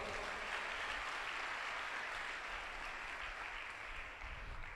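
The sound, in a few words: congregation clapping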